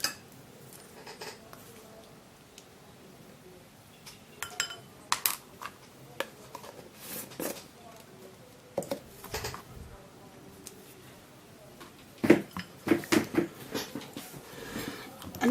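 A rice powder and ground flour face mask stirred in a bowl, with soft spoon scrapes and light clinks against the bowl, louder bursts toward the end, with occasional speech in the background.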